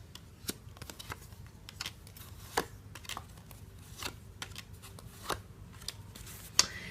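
Tarot cards being shuffled by hand: soft papery riffles and flicks up close, with scattered sharper card snaps over a faint hum, no voices.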